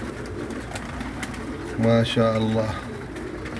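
Pigeons coo in a short, close, fairly loud run of calls beside newly hatched chicks, with a person's voice speaking over and around the cooing.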